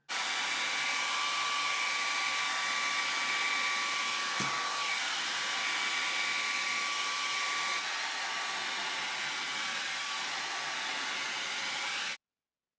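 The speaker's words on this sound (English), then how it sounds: "And this is just from blow drying." A handheld hair dryer blows steadily and loudly while drying straightened 4C leave-out hair, a continuous broadband roar with a faint whine that holds for about twelve seconds and then cuts off abruptly, with no talking.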